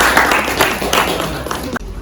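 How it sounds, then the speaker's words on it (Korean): Audience applause greeting a presenter at an in-house product demonstration of a local exhaust ventilation unit, a steady dense wash of clapping lasting about two seconds before cutting off sharply near the end. "박수로 맞아주십시오"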